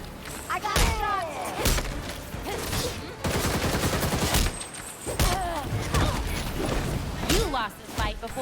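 Gunfire during a fight in the video game Gotham Knights, heard as loud bursts of shots and heavy thuds running almost without a break, mixed with game voices and a speaker's comments.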